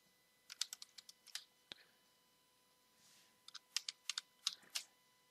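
Keys on a computer keyboard are tapped in short quick runs while entering a number in Inkscape, faint close clicks in two bursts over a quiet room hum.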